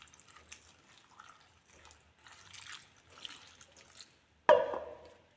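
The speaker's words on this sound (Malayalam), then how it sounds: "പിന്നെ വേവാൻ ആവശ്യത്തിനുള്ള വെള്ളവും കൂടി ചേർത്ത് കൊടുക്കാം" Water is tipped into a cooking pan holding green plantain with turmeric and chili powder, a short splashing pour arriving suddenly near the end after faint kitchen clatter.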